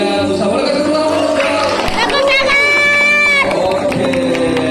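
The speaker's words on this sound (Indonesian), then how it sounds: "boleh kasih tepuk tangan" Church worship service audience gives applause and cheering with mixed voices, loud and continuous as a crowd noise that swells and rings throughout.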